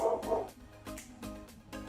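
A dog barks indoors in a few short, sharp yips and whimpers that rise and fall over about two seconds, moderately close and fairly faint.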